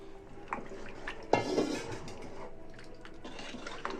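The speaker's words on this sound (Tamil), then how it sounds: "இப்போ வந்து கரைச்சி விட்டுருக்கிற அந்த புளி நீரை இதில் நான் சேர்த்துடுறேன்" Tamarind water poured into a pan of prawn curry, a brief splash and gurgle of liquid hitting the hot mixture, set among light clinks of utensils and pan in a quiet kitchen.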